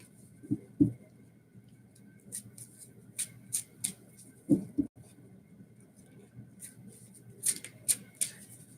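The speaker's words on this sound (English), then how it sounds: "I'm sitting here shuffling." Tarot cards being shuffled by hand during a late-night live reading, quiet riffling and soft slaps in short bursts with pauses between, heard close up over a faint background hiss.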